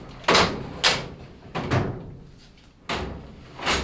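Drawers in a home workshop are pulled open and pushed shut one after another. Four or five sharp wooden slides and knocks come at close range with short pauses between them, and no one talks.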